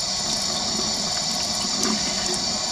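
Shrimp with shells and tails removed are rinsed under a running tap in a kitchen: a steady, close rush of water splashing, loud and continuous, with a faint swell near the end.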